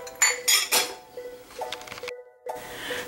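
A spoon clinks and scrapes against a bowl while flour and salt are mixed into blondie brownie batter, a few sharp close knocks followed by softer uneven stirring sounds.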